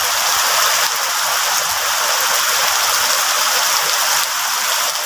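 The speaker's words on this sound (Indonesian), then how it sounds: "Jadi ceritanya sore hari menikmati hujan di kampung" Heavy rain pours down steadily over a rural village in Trenggalek, a dense, continuous hiss close by, with no voices.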